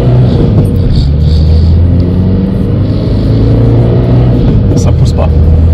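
A Renault Twingo II with a 1.5 turbo diesel cruises in fifth gear on a forest track, a steady low engine drone and road rumble continuing unbroken throughout.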